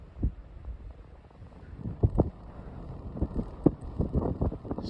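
Gusty wind from Storm Darragh buffets a microphone outdoors, irregular low thumps and rumbling gusts coming in bursts over a quiet background, with no talk.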